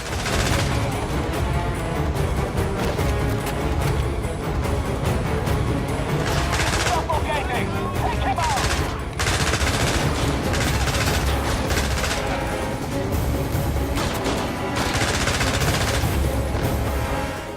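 Gunfire in the PS3 shooter 007 Blood Stone, dense continuous automatic fire and explosions in a gas-filled area, loud and sustained, with someone talking over the shooting.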